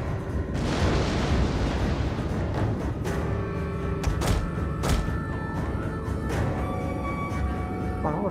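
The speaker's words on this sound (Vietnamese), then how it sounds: "Pháo của nó bắn gần tới rồi nhỉ." Enemy artillery in a Total War: Attila battle fires repeatedly, a string of heavy booms and thuds rolling over a dense battlefield rumble, with a few sharp impacts standing out.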